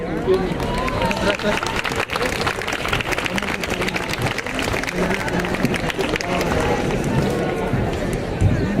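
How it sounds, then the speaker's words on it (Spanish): Crowd applause welcoming a Mexican music workshop at a university event, dense continuous clapping mixed with chatter and voices, steady and fairly close for several seconds. "Les pedimos un aplauso para ellos."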